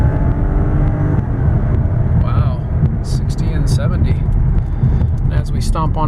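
A 2007 Lexus LS460 L accelerates at rising throttle, a loud steady engine drone building under continuous close talk, with a few brief sharp tones late on.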